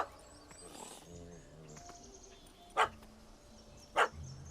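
A dog barks in The Witcher 3 video game, two short, sharp barks about a second apart, fairly distant, over a quiet game soundscape with faint background voices.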